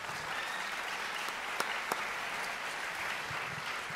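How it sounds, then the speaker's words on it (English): Steady wash of audience applause for the UNL Jazz Orchestra, dense and even from many hands at moderate distance, with a couple of sharper individual claps standing out midway and no voices above it. "So how about giving them a round of applause for that?"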